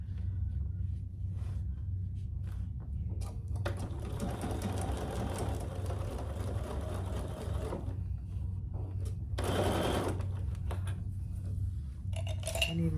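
A sewing machine stitches binding onto a tote bag in a steady, close-up mechanical whir that runs without pause, with a few light metallic clinks on top and no talking.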